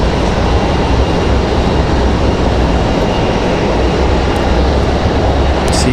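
A Delta airliner in a special livery rolls out after landing at RDU, giving off a loud, steady broadband jet roar that stays constant throughout, with no talk over it.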